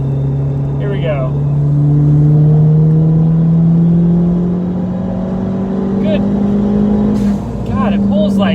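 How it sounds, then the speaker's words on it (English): A big-turbo Ford Fiesta ST accelerating hard uphill in third gear, its engine note climbing steadily and loudly for several seconds before a brief dip, then continuing to pull. "We'll do a third gear pull, I think."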